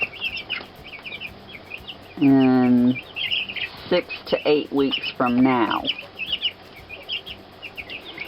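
About 25 young chickens in a farm coop, high peeping chirps scattered through the background, with someone talking nearby over them.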